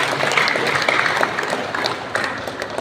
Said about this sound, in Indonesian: Beri tepuk tangan kepada Mas Ibra.